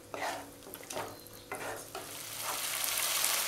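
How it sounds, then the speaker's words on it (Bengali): Whisked sour yogurt sizzles in a hot pan as it is stirred, with scraping strokes at the start, then a steady frying hiss that grows louder toward the end. "টক দইটা একটু আমি ভেজে নেব"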